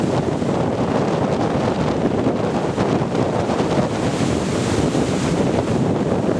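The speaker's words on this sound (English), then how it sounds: "Those poor cars get dashed in salt water." Loud, rushing wind and crashing waves, a constant roar of salt-water spray battering the Lummi Island ferry and the cars on its deck on a windy day, heavy and unbroken throughout.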